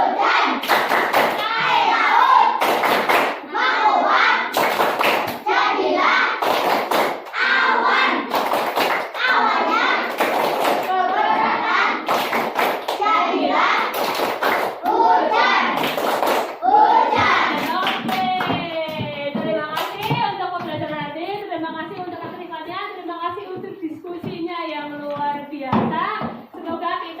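A group of schoolchildren perform a rhythmic clapping game together, slapping their hands in regular bursts while chanting, with thumps and shouted voices, then the clapping gives way to children talking.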